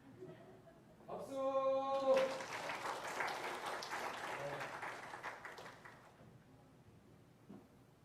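A church congregation at a Sunday worship service breaks into applause, a brief sung or spoken tone first, then a swell of clapping that holds for several seconds and fades out toward the end.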